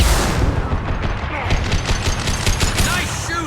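Sustained, dense gunfire from the video game Mass Effect 2, a continuous rapid rattle of shots at close range that stays loud throughout, with no pauses.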